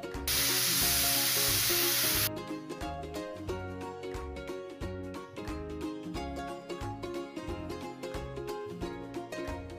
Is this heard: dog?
no